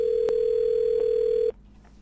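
A steady telephone dial tone hums alone for about a second and a half, then cuts off abruptly, from a call being placed in the GTA 5 roleplay game.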